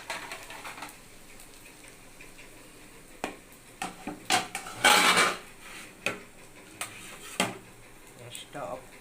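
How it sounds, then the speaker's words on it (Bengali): Cooked chow mein seasoned with chow mein masala being moved from the pan onto a plate in a home kitchen, with irregular metallic clanks and scrapes of utensils against cookware, close and fairly loud over a low background hiss. "আমি এবার এটা প্লেটে নামিয়ে নেবো।"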